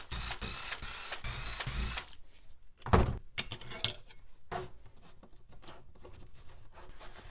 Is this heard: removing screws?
yes